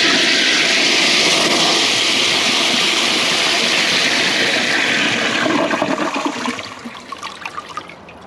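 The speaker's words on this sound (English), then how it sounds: "Let's see how it flushes right now." A 2008 Kohler Cimarron toilet on a high bucket tank flushes with its siphon jet blocked, giving a loud, close rushing roar of water that holds steady, then weakens into gurgling and sputtering as the bowl drains.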